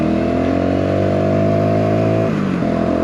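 Up close, a Voge R125 motorcycle holds a steady, buzzing engine note as it pulls through the gears, with a brief dip and pitch drop at a shift near the end.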